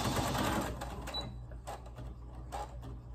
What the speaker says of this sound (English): So all I'm doing is back stitching right now.